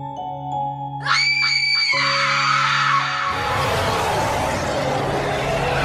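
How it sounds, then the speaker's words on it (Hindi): Cartoon zombies in an animated horror-comedy story scream loudly together, beginning as high tonal shrieks and swelling into a dense, continuous roaring cry. "बाबा लंगोटी लाल का नाम सुन के सारे ज़ॉम्बी जोर जोर से चिल्लाने लगते हैं।"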